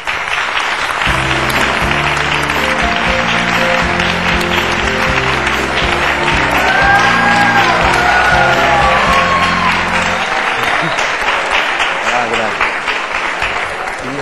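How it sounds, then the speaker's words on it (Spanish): Studio audience on a Spanish daytime talk show bursts into sustained, loud applause with some cheering, filling the whole stretch as background music plays and a host's voice carries over it. "Un aplauso para Sergio Peiró."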